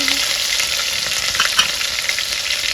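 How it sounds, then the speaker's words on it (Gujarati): Mustard seeds, curry leaves, cumin, chilli and garlic tempering in hot oil for a village-style Kathiyawadi dish, a loud continuous close sizzle and hiss with faint crackling, no voices. "રાઈ રાઈ મસ્ત મીઠો લીમડો નાખી દઈએ જીરું મરચા અને લસણ"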